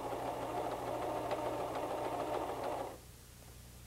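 A White 1735 sewing machine running a wider zigzag stitch, a steady fast mechanical whir and chatter for about three seconds before it stops, leaving a low hum.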